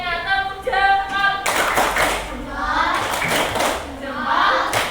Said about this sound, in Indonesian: Tepuk jempol buat Alena.